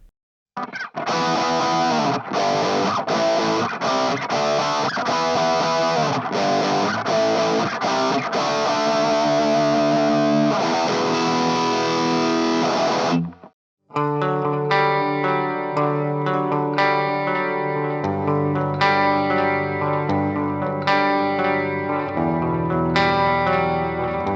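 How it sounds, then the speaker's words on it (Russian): Electric guitar played through the small speakers of a NUX Mighty-Air portable combo amplifier, first strummed chords with effects, then after a short pause a ringing arpeggiated passage with echo. "предлагаю послушать, как звучат его маленькие динамики"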